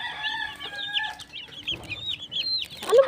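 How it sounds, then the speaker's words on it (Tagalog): Hens and small chicks on a farm, overlapping clucks and high thin peeping chirps close by, with a louder squawk near the end and no talk. "Dami na namang sisiw."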